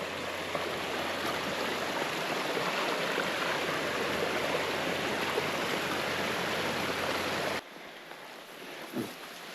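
A river rushes through a canyon on Guam, a loud, steady broadband wash of flowing water that cuts abruptly to a quieter outdoor ambience near the end.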